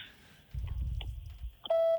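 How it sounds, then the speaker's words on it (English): A voicemail greeting ends with a single steady electronic beep, a clear, loud tone held for about a third of a second at the very end, following soft low rumbling and faint clicks. "please leave a message after the beep"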